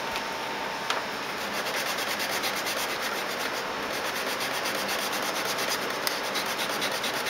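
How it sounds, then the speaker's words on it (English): Steady, continuous sandpaper rubbing on the hull of a Moebius Models Seaview submarine kit, an even, close scratching hiss that holds without pause. "probably going to take me another 10 minutes or so of sanding here to straighten this top part out"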